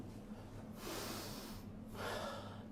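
A person sniffing air through extended nostrils, as when opening a window in the morning: two soft, breathy inhalations close to the microphone over faint background hum, with no talking.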